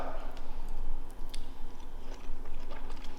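Seasoned cooked broccoli crunches between the teeth in repeated close, soft bites and chewing over a steady background hum.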